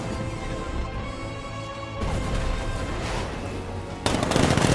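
A tank's 60mm cannon fires in Batman: Arkham Knight, a dense rapid burst of loud blasts and crashes that keeps going and swells sharply toward the end.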